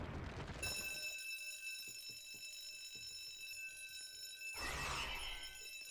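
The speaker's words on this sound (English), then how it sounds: "the alarm will go off, because obviously." A bank alarm in the Roblox game Liberty County rings out, a loud, sustained electronic bell with a tonal, buzzing edge that carries on unbroken for several seconds, with faint tapping footsteps beneath it and a burst of noise near the end.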